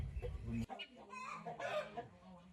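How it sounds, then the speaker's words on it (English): Chickens and turkeys cluck and call on a farm in Gracie Rock, Belize, a steady overlapping jumble of fowl sounds with a low rumble at the start and faint voices underneath. "Turkey and chicken."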